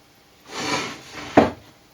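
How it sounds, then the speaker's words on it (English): Handsaw cutting wood for a custom multi-scale guitar build in a workshop, heard as two close, breathy rasping strokes, the second ending in a sharper catch. "is continue with the handsaw"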